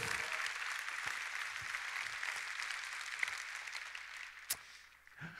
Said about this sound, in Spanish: Quizás hay un fuerte aplauso, se lo van a dar al Señor.